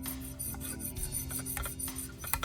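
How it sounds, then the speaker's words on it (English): A simple hacksaw cuts through a soft brass tremolo block for a guitar, giving a steady close rasping scrape with rhythmic back-and-forth strokes and no voices. "Just a simple hacksaw."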